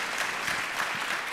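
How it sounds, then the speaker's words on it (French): An audience applauds in a hall during a public debate on God and science, a dense, even patter of many hands clapping at moderate volume throughout. "là on peut applaudir"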